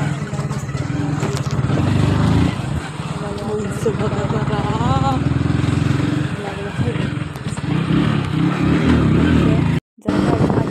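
A car engine drones steadily while being driven fast in second gear, loud and continuous, with people talking over it and a brief dropout near the end.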